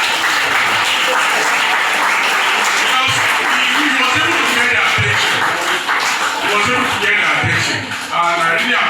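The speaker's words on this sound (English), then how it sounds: "So a round of applause for you." Applause from a school audience during a visit by Oba Hills National Park conservators, a steady wash of clapping with shuffling and some voices mixed in, sustained for the whole stretch at fairly constant loudness.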